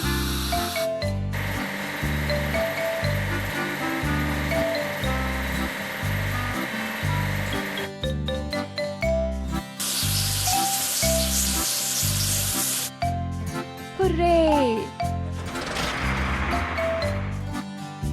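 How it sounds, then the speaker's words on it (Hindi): Strawberry trimmer being washed in a farming video game: a hissing water spray in two long bursts and a shorter one, laid over looping, bouncy game music. "हमें स्ट्रॉबेरी ट्रिमर को धोने की जरूरत है।"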